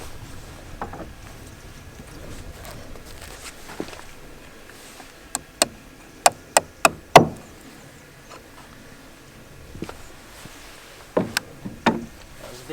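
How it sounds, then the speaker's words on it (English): Sharp hammer taps on small nails fitting roof shingles, a few scattered hits then a quick cluster of strikes and another short burst, close by in a quiet room. "These get a little nail"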